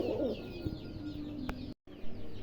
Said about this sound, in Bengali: খুব চমৎকার এক পেয়ার কালো লাহরি কবুতর একদম বিগ সাইজের